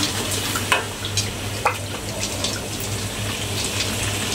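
Spice paste for asam pedas sizzles and fries in a pan, a steady close crackling hiss with occasional stirring scrapes and clinks.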